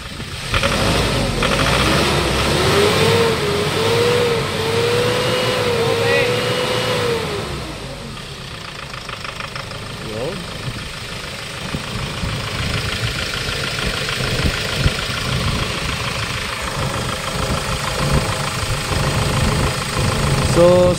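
A Hyundai Starex van engine with a suspected fault at the number 4 fuel injector runs close by, revving and then idling with a rough, uneven knocking beat under a steady mechanical drone, loud throughout.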